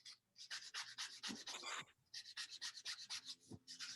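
Sandpaper is rubbed over a windowsill in quick back-and-forth strokes, a close, dry scratching rasp repeated about a dozen times with a short pause midway.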